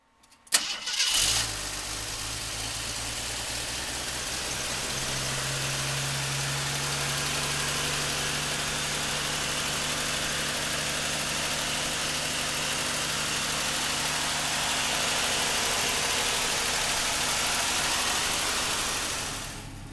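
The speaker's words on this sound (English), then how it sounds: "So come on up and we'll fire this Gremlin up." A 1977 AMC Gremlin's straight-six engine cranks and catches after a sharp start, then settles into a steady, low idle that runs on unbroken, close and fairly loud.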